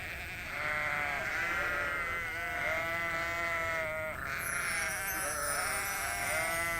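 Sheep in a pasture bleat in drawn-out, wavering calls, several overlapping cries rising and falling, moderately close and steady over a soft background.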